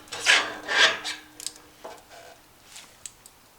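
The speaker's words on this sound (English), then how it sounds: "Go ahead and put our hub on." Trailer wheel hub on a Harbor Freight trailer being slid onto the spindle, a few close metallic scraping rubs followed by lighter clicks and taps as it seats.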